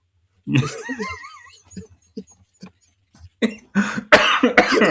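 A person coughs and sputters with throaty, gasping sounds, followed by a few harsher coughing bursts, close and fairly loud.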